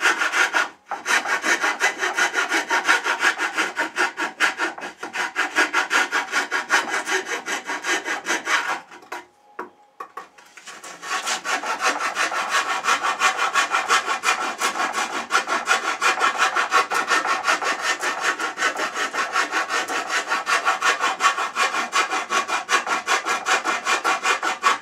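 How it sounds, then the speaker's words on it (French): A Japanese rasp files a wooden mortise for a Viking chair, producing a loud, steady back-and-forth scraping rhythm, close and continuous, broken by one brief pause partway through. "Alors je vais prendre ma râpe japonaise, là, qui est très très bien."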